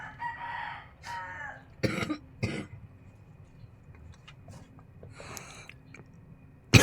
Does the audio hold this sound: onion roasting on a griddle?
no